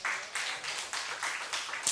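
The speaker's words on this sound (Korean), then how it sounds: "하나님께 감사의 박수를 올려드리겠습니다" A church congregation applauding during a revival service, dense sustained clapping across the whole span with a brief louder burst near the end, no voices standing out.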